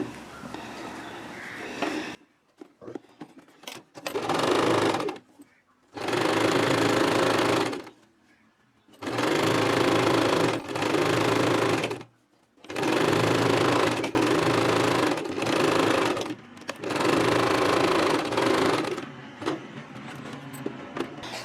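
A sewing machine stitches piping onto a lined designer blouse in repeated bursts of fast, even whirring, each a couple of seconds long, separated by short quiet pauses, loud and close.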